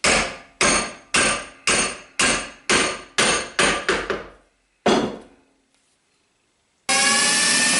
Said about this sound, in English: This is of course not the right way how to handle hammers, but for this stupid plastic thing it will work.